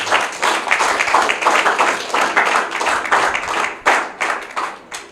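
An audience claps at a health-centre staff installation ceremony, lively and uneven, with individual claps standing out in bursts over a continuous patter lasting the whole stretch.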